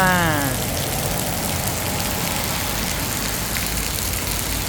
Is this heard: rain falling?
yes